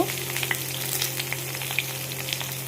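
Vegetables such as radish, pumpkin, eggplant, potato, pointed gourd and ridge gourd fry in a pan after the tempering, giving a steady close sizzle with small scattered pops and crackles, no voices.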